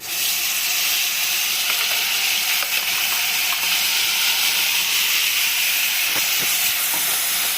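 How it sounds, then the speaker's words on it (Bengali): Spice masala dropped into hot oil for a prawn curry: a loud, dense, hissing sizzle that holds steady throughout, close up, with a few faint clicks underneath and no voices. "এই অবস্থায় এখন আমি এই যে মশলাটা আমি তেলে ছাড়বো।"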